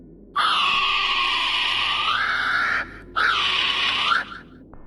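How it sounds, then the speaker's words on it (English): A female kiwi bird gives two long, harsh, rasping screeches, loud and close, each held for a couple of seconds with a short pause between them. "a screech that sounded identical to that of a female kiwi bird"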